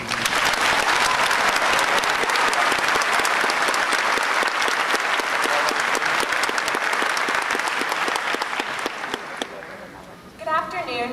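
An audience at a Berry College graduation ceremony welcomes the valedictorian with loud, sustained applause. Dense clapping fills the hall for about nine seconds and then thins out as the noise fades.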